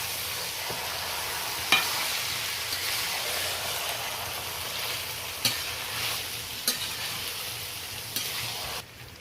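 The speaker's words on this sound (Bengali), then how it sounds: "মাংসটা এবার ভালো করে কষাতে শুরু করবো" Chicken is sautéed in a pan for a home-style chicken do pyaza, giving a steady close sizzle with a few sharp clinks of a spatula against the pan throughout.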